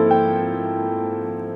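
A dissonant chord rings out as a single sustained sound, struck once and held steady at an even volume, with no voices.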